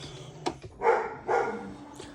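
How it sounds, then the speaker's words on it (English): A dog lets out two short barks nearby, fairly quiet, with a faint yip just before them. "That's my dog."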